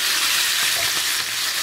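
Beef sizzles and fries in a pot over high heat, a dense, even crackle that stays loud and close throughout.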